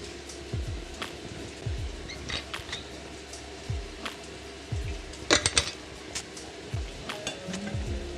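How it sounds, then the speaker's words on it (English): Bacon crackling in a cast iron pan, a light steady sizzle with scattered pops and utensil clinks, faint and close with no talk. "we're going to have huge pools of bacon fat pulling up at the bottom of our pan"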